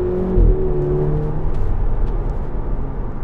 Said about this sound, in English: That little pop as it changes gear as well.